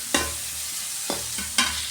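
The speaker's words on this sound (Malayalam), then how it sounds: "ഇനി മിക്സ് ചെയ്യണം, നല്ലോണം മിക്സ് ചെയ്യണം" Samosa filling with curry leaves is stirred in a pan: three or four quick scraping strokes over a low, steady sizzle, close and alone.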